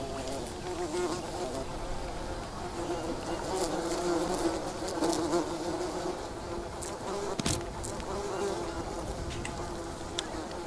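Bees swarm around a beehive in the survival video game Green Hell, producing a dense, continuous buzzing drone throughout with small clicks and movement sounds mixed in.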